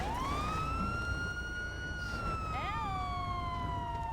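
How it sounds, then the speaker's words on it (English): A single police siren in a video game wails steadily, then dips and swoops briefly before settling into a lower tone, loud and close with no voices. "the sirens are very loud"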